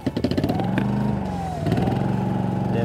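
A Yamaha EF2400iS inverter generator is started with some choke. A loud, pulsing engine chug settles into a fast, steady idle that dips briefly and then resumes, heard close up with no talk.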